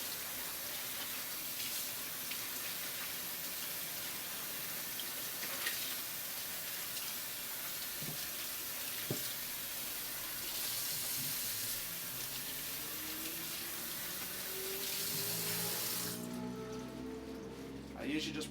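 Running tap water splashes steadily over a juice press bag being rinsed in a sink, a continuous hiss of water with soft handling noises underneath, ending with a brief shift in tone as the flow changes.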